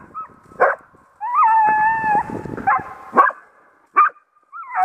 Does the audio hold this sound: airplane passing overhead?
no